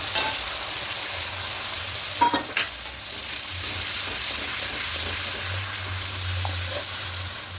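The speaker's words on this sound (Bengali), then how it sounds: "কষিয়ে নিয়েছি তেল আর মশলা আলাদা হয়ে যাচ্ছে" Masala sautéed in oil for a potato and pumpkin chhakka, stirred steadily until the oil separates. A dense, continuous sizzle carries a low scraping stir, with a couple of sharp clinks near the middle, and nobody speaks.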